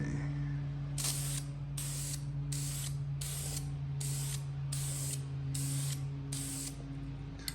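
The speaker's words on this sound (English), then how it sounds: "So my first coat is going to be super light just so I can lay a base on so I can start applying other coats on top of it." A spray can lays a light first coat of paint over a stencil on an intercooler, in about nine short, evenly spaced hissing bursts over a steady low hum.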